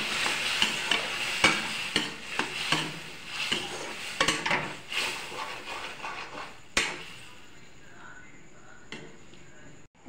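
Jackfruit and potato curry is stirred in a pan, with repeated scraping and clinking of a utensil over a soft sizzle, then the stirring stops and the sizzle carries on alone.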